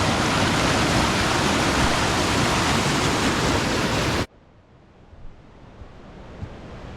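A river rushes loudly over rocks near Oakhurst close to Yosemite, a dense steady roar that cuts off abruptly after about four seconds to a much quieter background.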